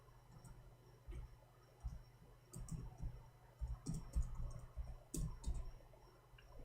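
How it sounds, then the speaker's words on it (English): Typing on a computer keyboard, heard as irregular bursts of light clicking keystrokes at close range, fairly quiet and steady, with no voices during it. "let us type this."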